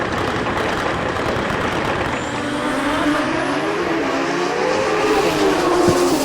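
A 2018 Pete Brown tube-chassis drag race car with a booster motor roars down the strip at a drag race, its engine a loud continuous blast with a rising tone, heard at a distance over crowd and track noise.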